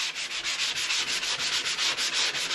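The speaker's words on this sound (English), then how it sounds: "Doing a little bit of touch-up sanding" Dried drywall compound gets touch-up sanding by hand, a near, rhythmic scratchy rubbing in quick back-and-forth strokes, about four per second, with no talk.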